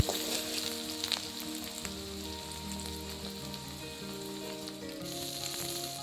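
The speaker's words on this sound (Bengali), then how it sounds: "রিফাইন্ড অয়েল দিয়ে গোটা জিরে ফোড়ন দিয়ে তার মধ্যে পেঁয়াজ আর সমস্ত সবজিগুলো একে একে দিয়ে এভাবে একটু হালকা ফ্রাই করে নিচ্ছে" Onion and mixed vegetables fry in refined oil with whole cumin for chowmein, a steady close crackling sizzle holding throughout with no speech.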